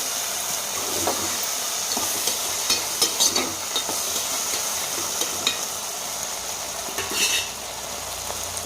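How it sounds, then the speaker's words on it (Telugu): Okra pieces frying in a pan, with a steady soft sizzle under occasional light clinks and scrapes of a stirring spoon against the pan, close and continuous throughout. "బంక లేకుండా చక్కగా వేగుతాయి అన్నమాట"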